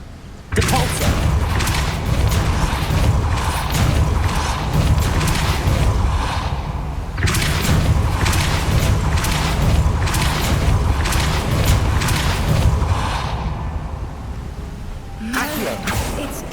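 A Depulso force spell impact in Hogwarts Legacy gives loud, dense crashing bursts with heavy rumble, then a short lull before another strong hit, close and sustained.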